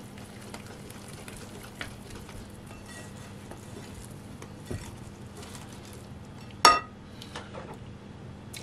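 Batter stirred in a bowl with a utensil gives a soft, faint scraping over a steady low hum, with a few light ticks and one sharp, bright clink near the end.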